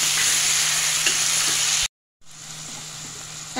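Onion and bitter gourd sauté in a pan with a loud, close hiss and stirring, broken by a brief silent gap before the sizzle resumes.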